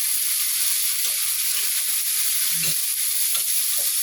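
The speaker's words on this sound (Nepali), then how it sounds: "आलु यतिको भएपछि फेरि भान्टा हालेर एकछिन फ्राई गर्नु पऱ्यो" Eggplant and potato pieces fry in a pan with a steady, close sizzle and a few stirring scrapes, and no one speaks.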